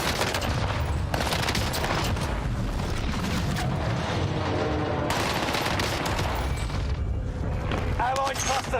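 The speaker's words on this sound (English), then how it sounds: "Allied cluster strike arriving." Cluster airstrike explosions in Call of Duty Warzone roar as a dense, continuous barrage of booms and rapid blasts, loud and close, with gunfire mixed in.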